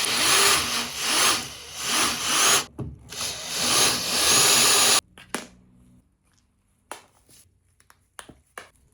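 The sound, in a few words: drilling out the rivets on a Volvo Penta starter solenoid cover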